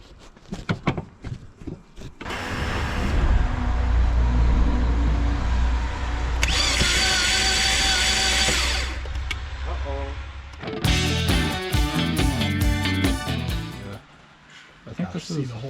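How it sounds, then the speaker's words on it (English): A car engine is turned over by hand during a clutch job, with a long, sustained mechanical grinding that later gives way to clanking and rattling. People talk intermittently around it. "I'm going to start cranking the motor."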